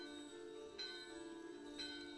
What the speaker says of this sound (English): Bell in their hand, the doorbell are ringing.